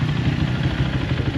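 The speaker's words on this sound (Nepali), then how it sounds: "क्याफे रेसर बनाएर चलाउने बाइक" A cafe racer motorcycle engine runs close by with a steady, low, throbbing rumble and faint mechanical clatter, holding an even level throughout without any voices.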